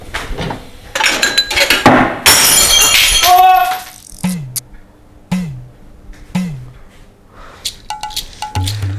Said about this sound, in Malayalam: അതെങ്ങനെ ഗ്ലാസ് പൊട്ടാതിരിക്കുന്നത്?